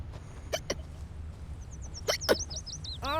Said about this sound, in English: Why are you hiccuping?